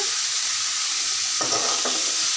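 Pumpkin and shrimp sauté in a pan with a loud, continuous hissing sizzle, and two brief scrapes of a utensil stir them near the end.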